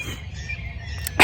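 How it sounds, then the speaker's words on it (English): Birds sing loudly outdoors on a rural homestead, with high chirps and calls standing out against a steady chorus of insects or frogs, ending in a brief, louder burst of chirping. "just take in the birds because they're so freaking loud"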